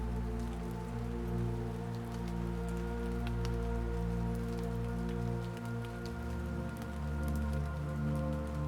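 Steady rain falling in a forest, pattering continuously on surfaces and leaves with scattered sharper drips, alongside a sustained low hum, with no voices.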